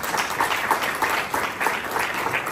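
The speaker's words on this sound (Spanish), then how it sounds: "denle un aplauso al Señor," A church congregation at a quinceañera reception claps together in a lively, fairly rhythmic burst of applause that holds steady and close throughout.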